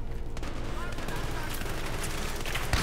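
A shotgun blast in a video game, sounding as a heavy, booming burst amid continuous loud gunfire and explosions that fill the whole moment with dense, close roaring noise.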